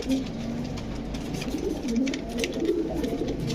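Pigeons of fancy breeds such as king, Danish, magpie and lotan coo repeatedly in low, throaty rolling calls, close and fairly loud, over a continuous background murmur.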